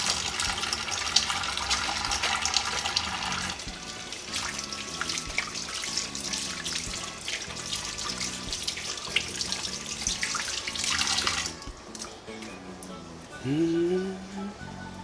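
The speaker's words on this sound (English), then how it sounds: "Let me wash my hands with some soap before I touch the camera." Water runs steadily from a sink tap as someone washes their hands with soap in a kitchen where fish soup is being cooked, then the flow stops and a short voice sounds near the end.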